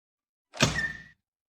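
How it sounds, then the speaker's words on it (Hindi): A door is pulled open indoors, a single short scraping sweep with a faint squeak that lasts about half a second, alone in otherwise silent surroundings. "तुम यहीं रुको, मैं दरवाजा खोलता हूँ।"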